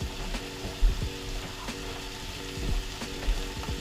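Chopped carrots and onions sizzle steadily in a pan on the stove, a soft continuous frying hiss broken by a few quiet clacks of a utensil, with no voices.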